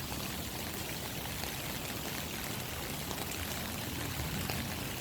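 Rainwater pours steadily from a rain gutter during flooding on Mulberry Street, a dense continuous splashing rush with no pauses and no voices.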